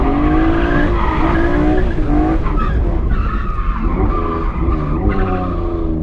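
Drift car tires skidding and squealing on a track, a loud, continuous screech with shifting pitch over the roaring engine, sustained and close throughout.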